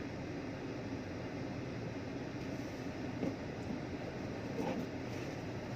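A faint, steady low rumble of a train at Sam Sen railway station in Bangkok, continuous and distant, with no voices.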